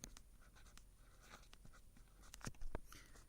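Marker or chalk writing on a board during a math lecture, a string of faint scratchy strokes and taps of varying spacing, with two louder taps near the end, over quiet room tone.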